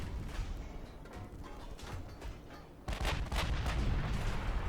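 Battleship gunfire in the naval game Ultimate Admiral Dreadnoughts, H class battleship engaging: low rumbling booms roll on through the clip, with a heavier, louder burst of cannon fire landing near the three-second mark and sustaining after.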